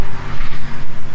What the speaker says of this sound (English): hold on, car passing.